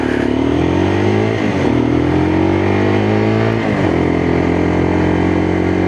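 A Lexmoto LXR 125 motorcycle pulls away into traffic, its small single-cylinder engine droning loud and close, the revs climbing steadily through two gear changes marked by short dips in pitch.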